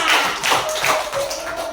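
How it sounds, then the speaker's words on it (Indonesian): A small classroom group claps for a classmate in a short, uneven burst of applause that fades after under two seconds. "Tepuk tangan buat teman kita."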